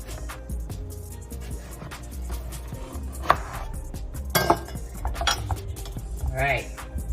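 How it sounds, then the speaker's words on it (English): Knife cutting a spaghetti squash lengthwise on a kitchen board, with scattered knocks, scrapes and clinks of utensils and a few sharper cracks as the blade goes through. "And then we're gonna slice long ways down the middle."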